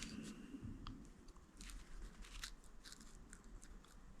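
A carving knife shaves wood in a series of short, dry scraping and crunching strokes, each cut crisp and close against a low, steady background hum, with no voices.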